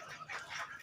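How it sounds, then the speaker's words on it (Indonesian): Ducks on a farm, fed fermented tofu dregs, give faint, soft quacks and calls that run across a brief moment at low volume with no talk. "Tuh buat bebeknya udah gede-gede ya"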